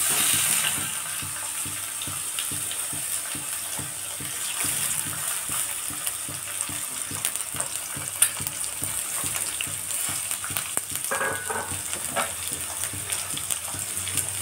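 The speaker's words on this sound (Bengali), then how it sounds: "তেলটা আমার গরম হয়ে গেছে। আমি পেঁয়াজগুলো দিয়ে দিচ্ছি" Onions frying in plenty of hot white cooking oil for a home-made biryani, a steady broadband sizzle with watery crackle running throughout, close and fairly even, no voices.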